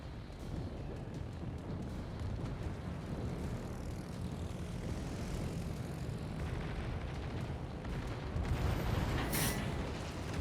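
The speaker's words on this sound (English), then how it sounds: "Torpedo bombers should do short work of Minnesota here." Torpedo bomber aircraft in a World of Warships naval battle drone overhead with a constant rumbling propeller engine roar, thick and loud, joined near the end by a brief burst like a distant blast.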